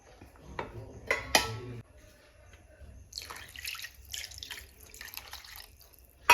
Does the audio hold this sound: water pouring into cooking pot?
yes